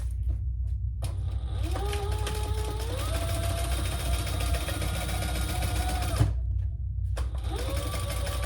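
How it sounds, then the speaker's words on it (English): Sewing machine stitching down the sides of a crossbody bag in long steady runs with a rising whine, pausing briefly twice before starting up again. "we're going to just baste on down the sides to keep it all"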